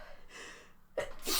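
A single sharp human sneeze bursts out near and loud after a brief breathy intake, standing alone without talk.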